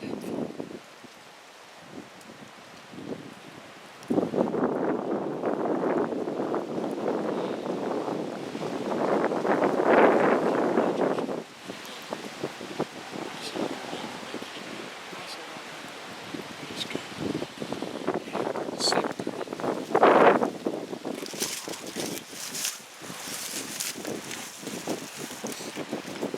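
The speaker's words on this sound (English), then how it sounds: "We're not sure, the wind's blowing real hard." Strong wind blows hard outdoors during a turkey hunt, buffeting the microphone with steady roaring gusts that surge louder midway, along with rustling.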